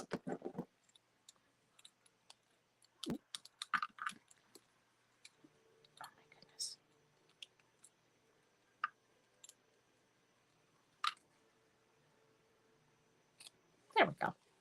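Scissors trim the tails on a decorated gift box, giving a few quiet, sharp snips spread apart, with soft rustling and handling noises between them.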